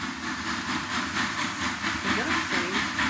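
A steam train in a video game gives off a steady, loud hiss of escaping steam with a faint rhythmic chuffing pulse underneath, continuous for a few seconds.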